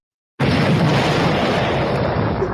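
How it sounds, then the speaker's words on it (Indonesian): A bomb explosion sound effect erupts suddenly after a brief silence, a loud, sustained broadband roar that holds at full strength to the end without tapering off. "Betul bomnya meledak ya."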